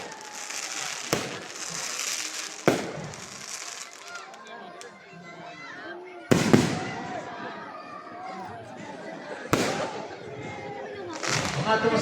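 Christmas fireworks exploding in Santo Tomas, Batangas: several loud sharp booms spaced a few seconds apart, each followed by crackling and whistling, with a crowd talking and cheering in between.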